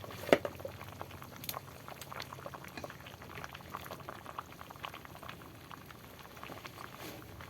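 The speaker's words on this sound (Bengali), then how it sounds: "তরকারির বলক উঠে গিয়েছে" Fish curry with potato and pointed gourd boils gently in a pan, a faint, steady bubbling with soft pops and a single brief knock near the start, no voices.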